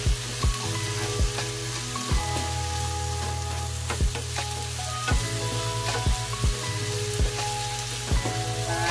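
String beans (sitaw) sauté in a frying pan, a steady sizzle broken by repeated sharp scraping stirs at a regular pace, close and fairly loud.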